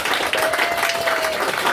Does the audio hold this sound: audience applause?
yes